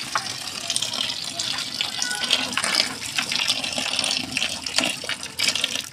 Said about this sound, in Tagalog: nalagyan na namin ng mainit na tubig para malinisan natin